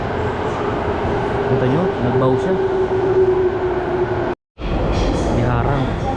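A light rail train rumbles past steadily at a festival in Hachioji, Japan, its sustained roar and hum filling the scene while people talk over it, broken by one brief dropout.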